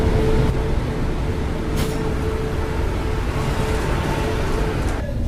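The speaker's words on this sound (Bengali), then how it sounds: "প্রায় আধ ঘন্টা লেট করে ট্রেন বর্ধমান থেকে বেরোচ্ছে" A passenger train, the Mumbai Mail, departs Bardhaman station, heard from on board as a steady loud low rumble of wheels and carriage noise with a brief squeal partway through.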